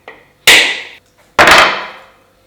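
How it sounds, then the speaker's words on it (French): Hammer striking a coconut to crack it open: a faint tap, then two sharp loud whacks with ringing decay, close up and spaced about a second apart, with no talking. "Donc là, il n'y a plus besoin du marteau."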